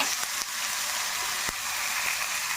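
A steady sizzling hiss from a hot pan as ground lemon chutney is added to hot tempering, with a few sharp crackles and pops breaking through the constant fizz.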